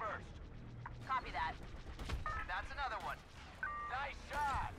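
Blaster gunfire from a Star Wars Battlefront 2 space battle, with dense bursts and volleys of shots under ongoing voice chatter and game effects, moderately loud throughout.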